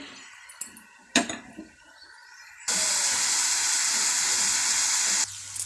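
Onions and green chilies in a pan: a few clinks and scrapes of a utensil, then a sudden loud, steady hiss of frying that holds for several seconds before cutting off, close by and with no talking.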